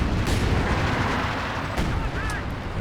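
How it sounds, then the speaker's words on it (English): Artillery barrage in the real-time strategy game Company of Heroes 2, a dense loud rumbling roll of distant explosions and booms running throughout, with a few sharper bangs on top. "some artillery out the back as well from that. Barrage, didn't hit anything though"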